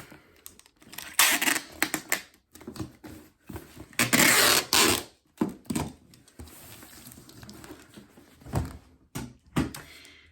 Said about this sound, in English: And now tape.